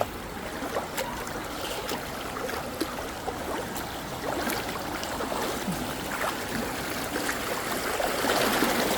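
Floodwater from a nearby river rushes strongly past a flooded house, a steady broadband roar of flowing water with scattered splashes and trickles, continuous and fairly close throughout.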